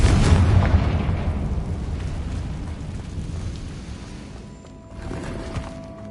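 A Confringo explosion spell from a Hogwarts video game bursts with a loud, broad blast that rumbles and slowly fades over several seconds, with a second, smaller surge near the end.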